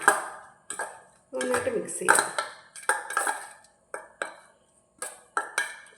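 A spoon mixing crumbled paneer with a little maida flour in a bowl, heard as a series of distinct metallic clinks and scrapes, close and fairly loud, in irregular bursts with short pauses between them.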